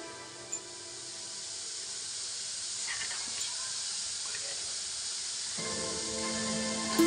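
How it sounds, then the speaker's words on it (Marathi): Salted water comes to a boil in a pot of jujube (bor) fruits, giving a steady, faint hiss of bubbling and steam that swells slightly toward the end. "याला पाण्याला उकळी आलेली आहे"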